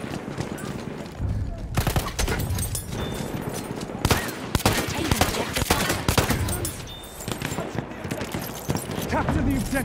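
Dense, continuous gunfire from the Battlefield 1 video game, set in a World War I trench battle at night, with rapid overlapping shots and machine-gun bursts filling the mix throughout.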